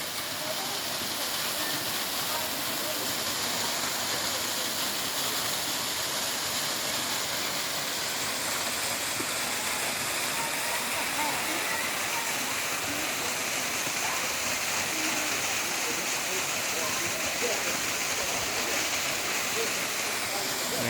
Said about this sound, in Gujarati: અહીંયા પહાડોમાંથી પાણી ચાલુ જ રહે છે કુદરતી આ બંધ નથી થતું